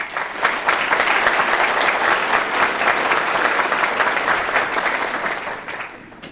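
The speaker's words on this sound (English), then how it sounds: "I think we should give you and all of them a big round of applause." A large audience at a school district leadership conference breaks into loud, sustained applause, a dense roar of clapping that holds steady for several seconds and then begins to fade.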